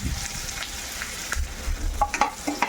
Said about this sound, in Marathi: एक मोठा कांदा चिरलेला आहे तो कांदा मी त्यामध्ये टाकून घेतला आहे